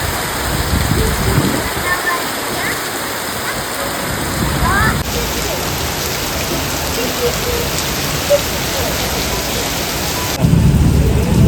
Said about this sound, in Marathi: थांबतच नाही पाऊस गडगडत आहे